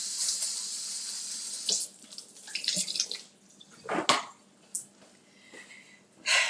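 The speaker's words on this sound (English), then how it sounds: "I'm just going to rinse off any leftover shell." Tap water runs into a kitchen sink as eggs are rinsed of leftover shell: a steady hiss of flow at first, then broken splashes and gurgles in irregular bursts, fairly close, with no talking.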